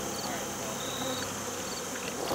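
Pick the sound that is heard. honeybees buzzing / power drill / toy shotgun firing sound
honeybees buzzing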